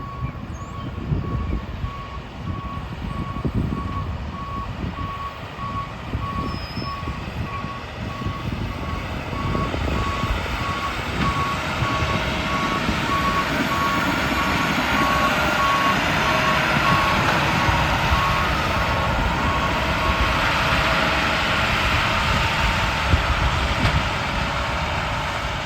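A hi-rail truck backs along railway tracks, its reversing alarm beeping in a steady, unbroken rhythm over the low rumble of the engine for the whole stretch.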